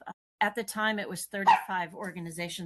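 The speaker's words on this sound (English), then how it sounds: "That's my dog, and I'm sorry." A dog barks in short yaps behind a voice in a home setting, the barks mixed into continuous speech rather than standing alone.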